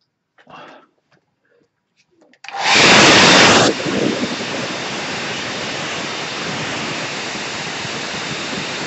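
A hair dryer blasts on loudly and close, drying paint on a winter scene, first at a harsh peak then settling into a steady continuous whoosh; a few faint taps come before it starts.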